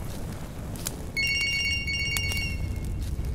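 A telephone in a horror video game starts ringing partway through, a thin electronic trill with repeated pulses over a dark ambient drone and a few sharp thuds, with no one talking.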